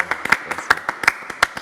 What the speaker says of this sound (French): je pense que ce jeune homme mérite largement nos applaudissements